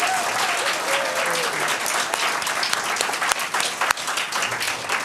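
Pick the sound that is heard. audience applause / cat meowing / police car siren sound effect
audience applause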